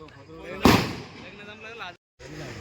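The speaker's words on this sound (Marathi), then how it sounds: "आमचे बंधू अनिल जोगले फटाके फोडण्यात मास्टर आहेत बघू शकता" A single firecracker bursts with a sharp, loud bang during a village Ganpati immersion procession, with people talking nearby before and after it.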